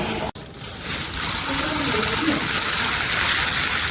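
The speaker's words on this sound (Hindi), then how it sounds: "ये रहे छोले, और इनको मैं पानी में डाल के भिगो देती हूँ अभी।" Water gushes steadily from a tap into a kettle-like vessel of chickpeas set to soak in a home kitchen, a loud, close, continuous pour that starts after a brief click.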